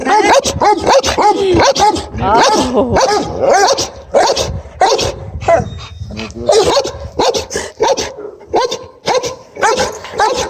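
A dog barks loudly and repeatedly up close, in rapid bursts mixed with yips and whimpers, barely pausing throughout.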